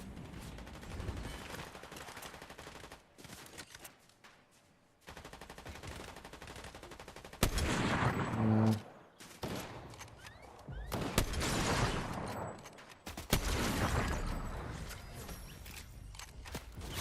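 Video game gunfire in a first-person shooter, with repeated bursts of rapid shots and single cracks spread across the span, some loud and close, some fainter, broken by short silent gaps.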